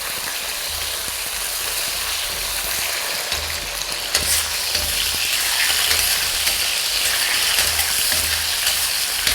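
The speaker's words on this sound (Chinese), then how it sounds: "把土豆片煎一煎，用点油" Potato slices pan-fry in a little oil in a wok, a steady, dense sizzle and crackle held up close for several seconds, growing slightly louder midway, with occasional faint stirring knocks and no talking.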